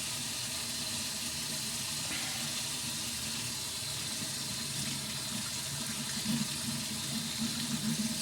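Cold water runs steadily from a kitchen tap, a continuous close hiss and splash into the sink that holds unbroken throughout with slight shifts in the flow.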